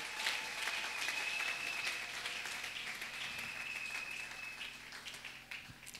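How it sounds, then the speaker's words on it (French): Congregation at a church service applauding, a steady wash of many hands clapping with a faint sustained tone beneath, fading slightly toward the end. "Acclamons encore le Seigneur."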